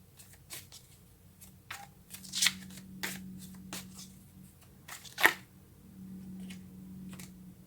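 Tarot cards are handled and drawn from a deck, giving soft papery snaps and flicks in irregular bursts, close and quiet, with a faint low hum underneath.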